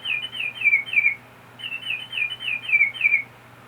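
Small canary chirping in two bursts of quick, high, bright trills with a short pause between, close and clear over a faint low hum.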